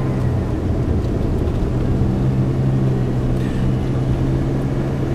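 A Suzuki Every Wagon PZ Turbo 4WD's engine runs steadily close by, giving an even, low mechanical hum that holds without change from start to finish, with no voices.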